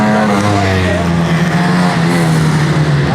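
Race cars at full throttle at Bovingdon Raceway, a loud sustained engine drone with falling pitch as a car sweeps past up close, steady and unbroken throughout.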